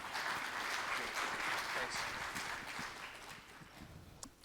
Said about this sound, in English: let me ask you to give a very, very warm round of applause to our wonderful Steve Waugh